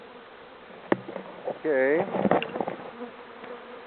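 Honeybees buzz close around a hive during a spring inspection, with one bee's whine sweeping past loudly amid scattered handling clicks and a brief spoken word.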